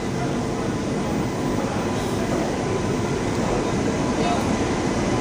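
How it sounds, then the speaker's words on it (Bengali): A Shatabdi Express train rolls slowly toward a station platform in Malda, a loud, steady rumble of wheels and carriages filling the scene, with faint station voices underneath. "আসছে শতাব্দী এক্সপ্রেস, ধীরে ধীরে এগিয়ে আসছে প্ল্যাটফর্মের দিকে।"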